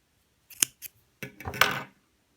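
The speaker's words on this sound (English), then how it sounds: "I want to cut a long piece of this." Scissors snip crochet yarn up close, a couple of quick crisp cuts followed by a longer rustling snip, sharp and isolated in quiet.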